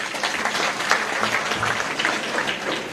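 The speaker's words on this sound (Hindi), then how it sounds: "तो ताली बजाइए दीदी के लिए" A crowd at a political rally in Bhiwandi applauds, giving a short burst of dense, steady clapping that fills about three seconds without any speech on top.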